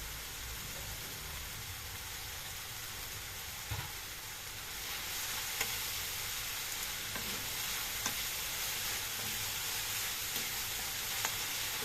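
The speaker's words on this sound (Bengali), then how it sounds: "মশলাটা এই যে গোবিন্দভোগ চালের সাথে ভাজছি" Spice paste with turmeric and salt frying in a pan alongside Gobindobhog rice, a steady close sizzle with occasional stirring scrapes and clicks, no voices.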